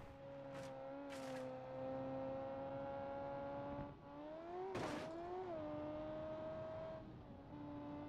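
A 1960s supercar engine revs in the BeamNG driving game, a steady tonal drone that climbs and dips in pitch, with a few short bursts of noise.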